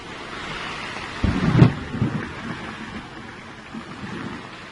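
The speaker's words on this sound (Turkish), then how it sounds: "Fırtınayla beraber dolu yağıyor, yağmur yağıyor şu anda." A stormy downpour of hail and rain over a greenhouse, with steady rain hiss and a loud rumbling burst of thunder or impact noise, no voices.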